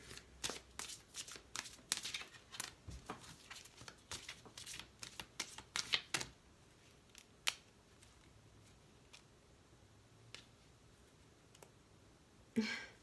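Tarot cards being shuffled and handled during a full moon lunar eclipse reading, a dense run of crisp riffling clicks and flicks for about six seconds, then sparse single card taps and slides in a quiet room.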